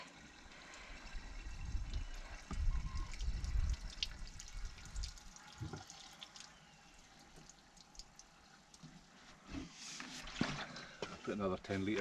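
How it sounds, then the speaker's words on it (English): Water runs and trickles while a campervan tank is topped up outdoors, a faint gurgling flow with occasional louder splashes and knocks, and people talk nearby. "We top up with water."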